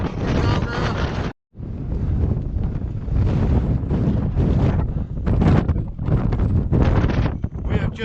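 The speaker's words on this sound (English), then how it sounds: "This is not the place you want to be in this wind. Massive gusts." Powerful wind gusts buffet the microphone on the exposed Y Gribin mountain ridge, a loud roaring rumble that surges and drops in waves, with one brief cutout near the start.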